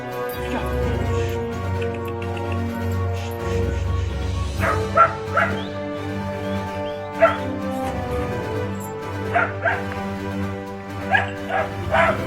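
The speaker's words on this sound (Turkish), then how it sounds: "bu dost canlısı kangal köpeklerimize sahip olmak isteyen arkadaşlar" Kangal dogs barking, short yelping barks and whimpers in several quick bursts, close by and loud, heard over a continuous background of strongly tonal music.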